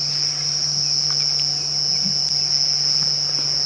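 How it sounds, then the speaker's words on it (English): A continuous high-pitched drone of cicadas singing on a safari drive fills the air steadily and evenly, with a faint lower hum beneath and no talking. "It is the subtle marvellous sound of summer, of the cicada."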